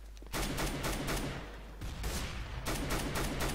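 Gunfire in the video game CS:GO, with loud, close bursts of rapid shots starting abruptly, pausing briefly, then resuming twice more in heavy volleys.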